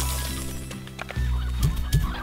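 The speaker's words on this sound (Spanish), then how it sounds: "Básicamente estos son pollos infinitos" Chickens cluck in the video game Slime Rancher, giving several short, repeated clucks over a steady synthetic game background, with no talking.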